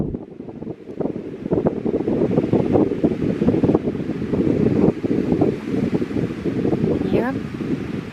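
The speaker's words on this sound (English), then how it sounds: "I don't know if you can hear the sound of the waves." Waves wash steadily against the shore at Oneida Lake, a continuous rushing surf mixed with gusty wind noise on the microphone, while a voice talks over it.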